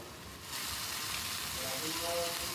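Tomato, turmeric, chili and cumin powders sizzle in hot oil for Bengali katla fish kalia, a steady bright frying hiss that starts abruptly after a quiet half second and holds evenly to the end.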